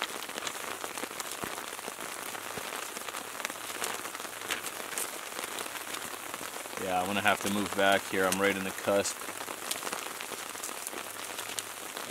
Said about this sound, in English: It's rainy. It's raining.